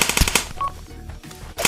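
Rapid virtual gunfire in the Pavlov VR airsoft team deathmatch on the Cargo map: a quick burst of loud shots at the start, quieter clatter in the middle, then another burst at the end.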